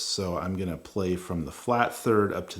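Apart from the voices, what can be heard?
None of the usual background noises is heard.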